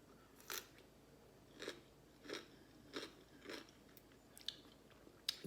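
Crunchy fermented dill pickle cucumbers bitten and chewed close up, five distinct crisp crunches spaced about a second apart, then a few faint clicks in an otherwise quiet room.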